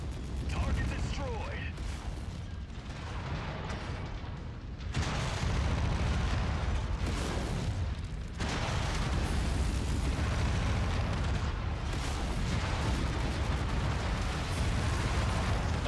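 Mech autocannon fire and explosions in the video game Merc Life: a continuous barrage of heavy booms and rumbling blasts, loud and dense throughout, with brief lulls between clusters of bursts.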